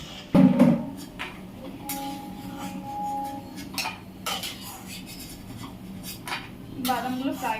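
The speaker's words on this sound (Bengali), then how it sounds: "বাদামটা নেড়ে নিচ্ছি হালকা করে" Peanuts being stirred as they fry in a pan, with a sharp metallic clank at the start, then light scraping and clinking of a utensil against the pan, intermittent and fairly soft; faint speech underneath.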